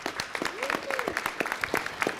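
An audience at a city council meeting gives a round of applause, dense clapping throughout the short stretch, fairly even and moderately loud, with a voice briefly audible over it.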